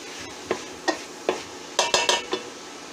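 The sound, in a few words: stirring homemade chili in a pot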